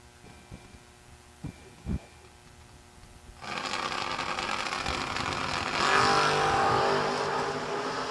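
Drag racing cars, a Chevrolet Camaro and a 1956 Chev, launch at a FuelTech season opener; after a few quiet knocks, loud engine roar bursts in and holds, building further as the cars pull away.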